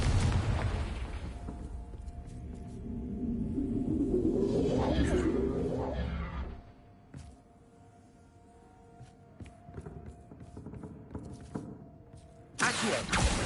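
A Confringo fire spell explodes in Hogwarts Legacy, opening with a booming blast and a swelling fiery whoosh that dies away, then scattered sharp crackles and another loud burst near the end.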